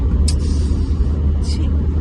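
Inside a moving bus, a loud, steady low engine and road rumble fills the cabin, with two brief higher bursts of noise standing out against it.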